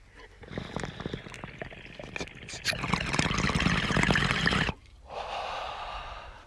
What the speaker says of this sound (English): I'm gonna do an up close so y'all can hear the biggest bubbles